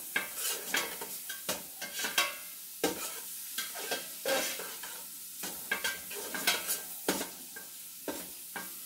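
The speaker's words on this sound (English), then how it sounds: "I'm just going to crisp this ham up" Ham crisping in a pan while being stirred, with a close, steady sizzle broken by repeated utensil scrapes and clinks against the pan; no voices.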